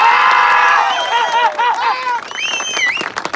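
A crowd at a tournament in Coimbatore cheers loudly, with high shrill voices and whoops rising and falling over a short burst of noise and some clapping.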